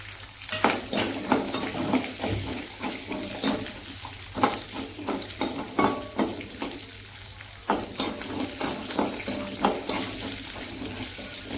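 Green chillies and small shallots sautéing in a pan, a steady sizzle with repeated scraping stirs at an even pace, close up and without speech.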